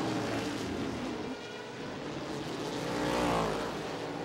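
A pair of Lola race cars pass during the 1999 ALMS race at Canadian Tire Motorsport Park, a distant engine drone that swells and fades under steady background roar.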